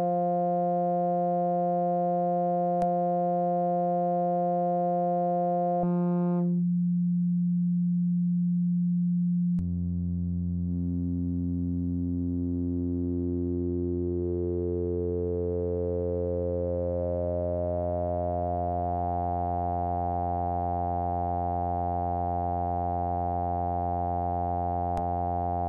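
A steady synthesizer tone holds without phase distortion, cuts to a lower plain tone, then returns with phase distortion, a bright harmonic sweep slowly rising across its overtones for a long stretch.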